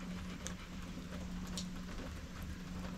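Steady rain pattering on a houseboat nearby, a constant soft hiss with occasional louder drops, and a low hum underneath.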